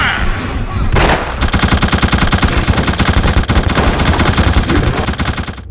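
Sustained automatic gunfire in the survival horror video game The Suffering, loud and dense rapid bursts running continuously, with a brief lull near the start before the firing resumes.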